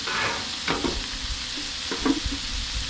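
Bacon sizzling in a pan as a topping for mac and cheese, a steady crackling fry with a few soft stirring scrapes, close and continuous.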